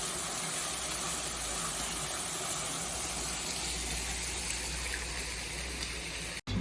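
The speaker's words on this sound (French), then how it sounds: "La petite cascade." Small cascade of water in the town hall gardens, a steady broadband rush of falling and trickling water running continuously and fairly loud, with faint background hum and no talk.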